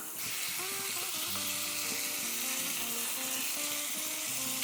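Minced chicken keema sizzles in a hot pan with fried spices and chilies, a dense, steady, close frying hiss that holds level throughout with occasional faint clinks and no talking.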